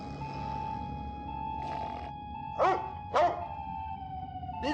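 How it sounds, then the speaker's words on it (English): Puppy in the video game Amanda the Adventurer 3 giving a few short, bright barks spaced about half a second apart over a steady tonal game background. "Look at this sweet puppy!"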